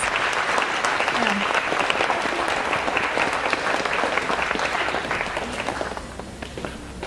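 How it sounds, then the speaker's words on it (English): An audience applauds a family's Yakama Nation powwow dance performance with steady, dense clapping from many hands, sustained for several seconds before tapering slightly, with some crowd voices beneath. "give them a round of applause, please"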